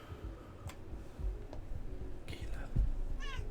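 A pet cat meows nearby, a short rising-falling cry near the end after faint earlier sounds, quiet and heard over low background noise.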